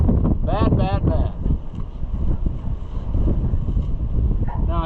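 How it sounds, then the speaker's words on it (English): Strong wind roars and buffets the microphone during a grain elevator rescue in Kewanee, a steady low rush with a voice briefly breaking through at the start and end. "the wind is pulling on this thing bad"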